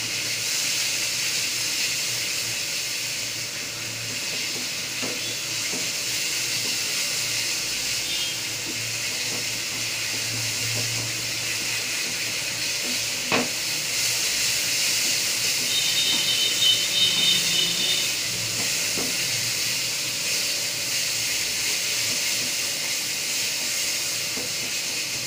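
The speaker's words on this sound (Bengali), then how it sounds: "দিয়ে নাড়াচাড়া করে মশলাটা ভাজা ভাজা করতে হবে।" Spiced masala with turmeric is stirred and fried in a pan for a pomfret fish curry, giving a steady, even sizzle and hiss that runs throughout, with occasional faint clinks of stirring.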